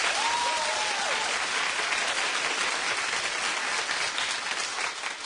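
Studio audience on a daytime talk show clapping in a steady, dense wash of applause that holds at an even level throughout, with a faint whistle near the start.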